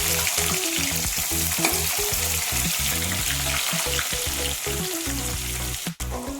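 Loud, close sizzling of onions frying in hot oil, crackling continuously with occasional stirring scrapes.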